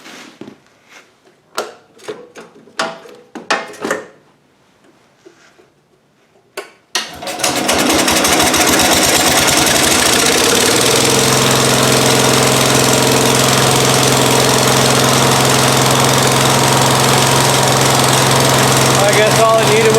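Cub Cadet lawn tractor engine cranking and catching, then settling into a loud, steady running drone close by after a few seconds of quiet clicks and fumbling.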